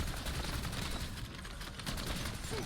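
Nonstop rapid gunfire from a weapon in Black Ops 6 Zombies, a dense, loud fusillade of rounds with no pause across the whole stretch.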